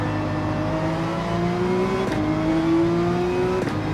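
Porsche 911 GT3 race car in Gran Turismo 7, its engine droning steadily at full throttle with the pitch climbing, two brief gear-change breaks, loud and continuous with no talk.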